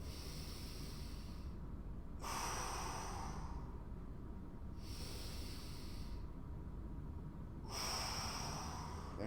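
Slow deep breaths during a hip, shoulder and upper back mobility exercise, with about three long airy inhale and exhale cycles heard close and soft, no talking.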